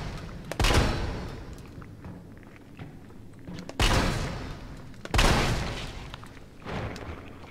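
Gunfire in Resident Evil 3 Remake: a few heavy, booming shots spaced a second or more apart, each ringing out and decaying over a rumbling background.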